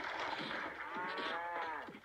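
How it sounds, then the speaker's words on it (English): A cow moos in the survival video game Survival Craft with a drawn-out, wavering low call that bends up and down in pitch, heard alone at moderate volume. "Come here, cow."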